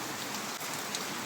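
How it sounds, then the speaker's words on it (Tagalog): Heavy nonstop rain pouring over a flooded backyard chicken coop, a dense, even hiss of falling water that stays constant and unbroken, moderately quiet with no voices. "Walang tigil yung ulan mga lods, kaya bahang-baha na naman yung ating manukan"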